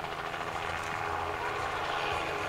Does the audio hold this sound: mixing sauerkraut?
no